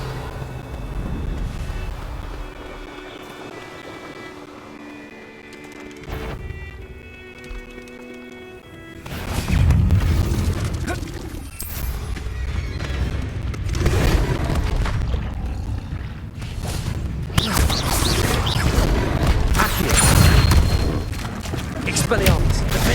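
Confringo and Bombarda spell blasts in the game Hogwarts Legacy, a run of loud booming explosions and crackling bursts that come close together and keep rumbling continuously through the second half.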